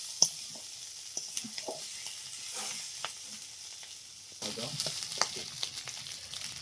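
Snail meat and potatoes frying together in oil for a spicy snail curry, a soft continuous sizzle with scattered crackles and stirring clinks that swells louder near the end.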